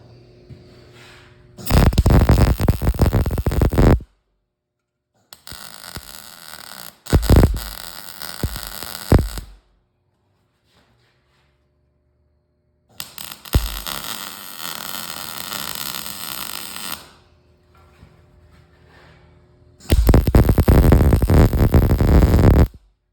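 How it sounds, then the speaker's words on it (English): Bursts of arc welding on scrap metal for a junk jack-o'-lantern, several loud crackling buzzing runs of a few seconds each separated by quiet pauses, with no talking. "I'm just gonna kind of weld this, start welding."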